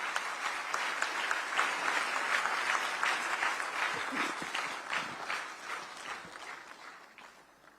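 An audience claps steadily in a dense burst of applause that gradually fades away.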